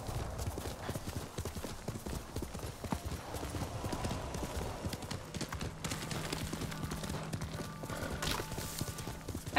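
Horse hooves clip-clop in a steady, rapid galloping rhythm in the video game Ghost of Tsushima, loud and continuous, with faint ambient game sounds underneath.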